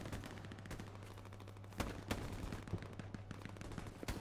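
Distant gunfire in the World War II shooter game Hell Let Loose, bursts of automatic fire and scattered single shots crackling faintly, with a couple of louder reports standing out over a low steady drone.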